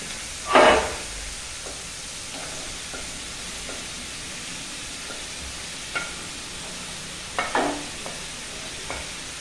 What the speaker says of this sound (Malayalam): ഇത് നല്ലപോലെ ഇളക്കിയിട്ട് സിമ്മിലിട്ട് ഈ മൂടി വെച്ച് കുറച്ച് നേരം വേവിക്കും